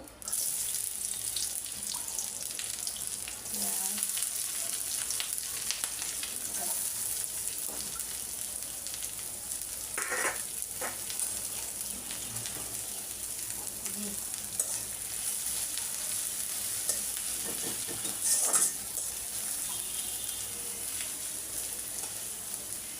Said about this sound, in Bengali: শুকনো মরিচ একটু বাজা হলে দিব আমি রসুন